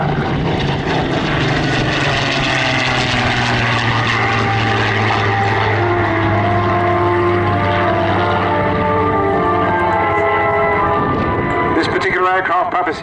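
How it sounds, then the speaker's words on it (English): A Rolls-Royce-powered Spitfire PR XIX passes overhead at the Southport Airshow, its loud, droning piston engine sustained throughout with a shifting pitch as it flies by, while an announcer's voice carries over a public address system. "Look up in the sky now, and what a pleasure it is. Just an abundance of outstanding aircraft. The Rolls-Royce Mark 19"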